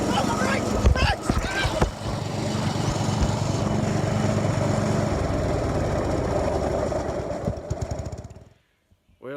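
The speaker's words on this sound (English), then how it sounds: "We're going to go up there and mow the banks." Old Blue, an old riding lawn mower, roars loud and steady at close range while mowing grassy banks, with clanks and thumps early on and the engine cutting out near the end.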